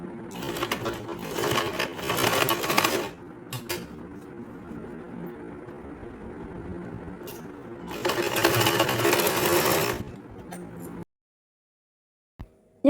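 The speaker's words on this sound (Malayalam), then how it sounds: "ഞാനിവിടെ സ്റ്റിച്ച് ചെയ്ത് എടുത്തിട്ടുണ്ട്." A sewing machine stitches fabric in two loud bursts of rapid, even needle chatter separated by quieter handling noises and pauses, heard close up with no talking.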